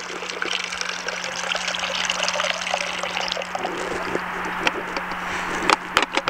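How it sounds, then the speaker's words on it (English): Fixer pours out of a Jobo 2400 daylight film developing tank in a steady trickling stream, close up, with a constant low hum beneath it. A few sharp clicks and knocks near the end come as the flow tapers off. "we're just gonna pour out the fixer"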